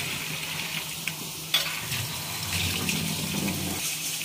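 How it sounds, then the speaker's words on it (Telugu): Goat brains for a mutton brain masala being rinsed under a running kitchen tap, a steady close splashing water stream with small handling knocks and no talk. "దీన్ని ఫస్ట్ మనం రన్నింగ్ వాటర్లో క్లీన్గా వాష్ చేసుకోవాలి."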